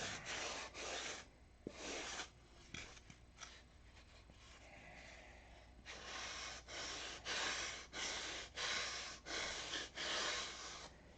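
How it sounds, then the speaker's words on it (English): Rhythmic rasping strokes of coarse 80-grit sandpaper on wood, repeated back and forth in short bursts, close up, with a brief pause in the middle. "you're just sanding"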